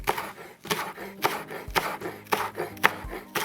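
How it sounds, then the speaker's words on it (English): Knife blade knocking steadily on a cutting board while thinly slicing washed green onions for vegan sour cream and onion scones, with close, crisp chops repeating every half second or so and no talking. "we're just gonna slice these real thin"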